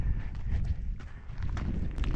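Horses walking close by outdoors near a mountain, with soft clip-clop hoof falls and shuffling steps over a steady low rumble, no talking.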